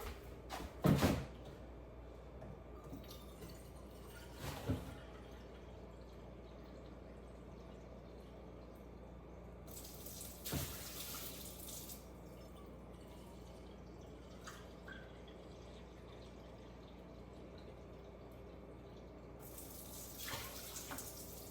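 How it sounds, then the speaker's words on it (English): Water pours and drips into a pot for cooking rice, a few short splashes and trickles spaced out over a quiet kitchen background, no talk. "or you can just throw some water in."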